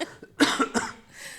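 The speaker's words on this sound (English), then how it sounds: "got a cough." A person with a cold coughs in a few quick, harsh bursts close to the microphone, with a breathy exhale trailing off after them.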